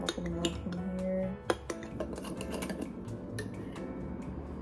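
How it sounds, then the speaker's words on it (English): Peaches are chopped by hand in a home kitchen, with a run of sharp knife taps and clinks against a board or bowl, one louder knock midway, then softer scattered cuts. "Peaches. I'm already almost done with them. Chopping them up in here."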